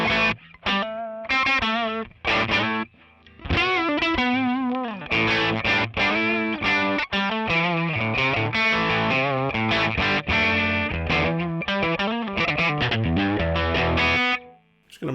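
Electric guitar through the Cali Crunch amp model on a NUX MG-300 modeler, playing a loud, continuous run of distorted chords and sustained riffs with brief gaps, alone with no talking.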